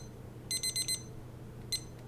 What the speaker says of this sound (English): I'm going to set a timer for 7 minutes.